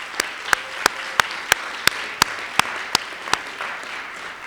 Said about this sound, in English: if we could just honor and applaud those individuals that were part of this planning team